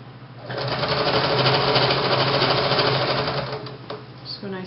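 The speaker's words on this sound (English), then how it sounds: "you want to make sure that you're stitching over that seam inside" Sewing machine stitching over a seam inside a boutique top or dress, a rapid steady mechanical whirring rattle that runs for a few seconds before slowing and stopping, with talk around it.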